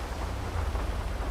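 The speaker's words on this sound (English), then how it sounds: "It's raining." Steady rain falls outside during a city police patrol, a continuous dense hiss with a low rumble underneath, constant in level and with no voices.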